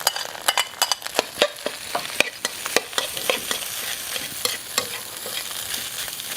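Rice for Indonesian nasi goreng is stirred vigorously in a hot pan, with rapid, loud, close scraping clatter over a bright sizzle.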